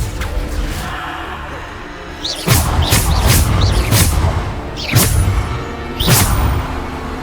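Descendo spell impacts in the Hogwarts Legacy video game during a Keepers trial duel, a series of heavy booming slams with whooshing swishes, four or five loud hits spaced about a second apart amid battle noise.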